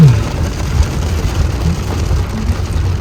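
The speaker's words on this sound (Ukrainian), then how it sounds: "І в нас дощ почався." Steady broadband hiss of heavy rain pouring down, continuous and fairly loud throughout with no voices.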